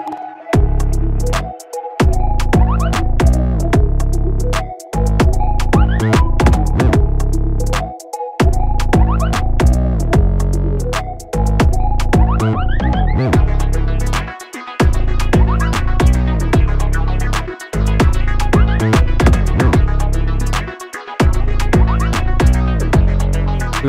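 A full hip hop beat plays loudly: punchy drums, deep bass and looping melodic layers, with short breaks where the music drops out between phrases.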